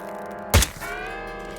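A sniper shot in the Hitman video game strikes a bell, giving a single sharp thunk followed by a lingering ringing tone over a quiet ambient background.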